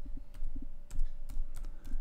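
Text being typed on a computer keyboard: a handful of crisp, close key clicks in an uneven rhythm, some paired, with quiet room tone between them.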